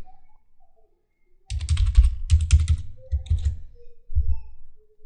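Username and password typed on a computer keyboard, arriving as two dense bursts of clicking keys followed by a few shorter clusters, close and clear with no talking.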